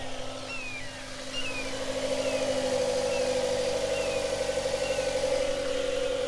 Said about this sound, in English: it didn't even need anything to start the motor on the Mazda